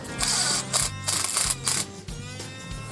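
A ratchet snugs bolts on Jeep JL differential skid plates, close and clear, with repeated quick bursts of clicking pawl strokes separated by short pauses.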